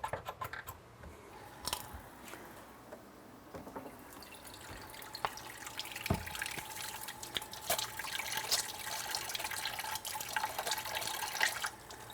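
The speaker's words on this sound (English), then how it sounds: "I do need to wash well here because I've handled raw meat" Hands are washed under a running kitchen tap after handling raw meat, a steady hiss of water with splashing and dripping that grows busier toward the end, nearby and without talk.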